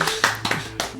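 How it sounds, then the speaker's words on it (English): A few sharp hand claps sound close and dry, four or five quick claps in a brief burst, like a single person applauding. "I feel like I should applaud or something."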